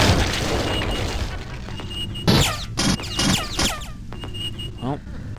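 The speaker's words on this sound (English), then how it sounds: "I want to fire a grenade through there, but I'm worried I'll just hit the wall and blow myself up" Heavy booms from a grenade explosion in Aliens: Eradication, a Doom 2 total conversion, several loud bursts in quick succession amid game noise, with a voice talking over them.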